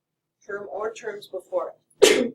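A single sharp sneeze bursts out in a classroom right after a teacher's sentence, close and loud against an otherwise quiet room.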